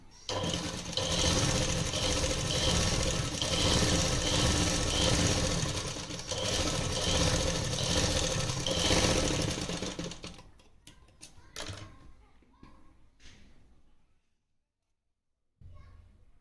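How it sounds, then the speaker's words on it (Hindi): A sewing machine runs steadily for about ten seconds, double-stitching the back seam of ladies' trousers, then stops, leaving scattered handling clicks and a brief final burst. "ऐसे ही अब बैक पार्ट पे हमें सिलाई लगा लेनी है, डबल सिलाई लगानी है हमें।"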